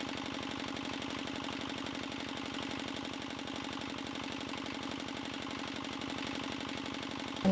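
A steadily running engine powering a generator-type load, a constant even low throb with rapid regular pulsing that holds unchanged throughout, close and moderately loud with no voices.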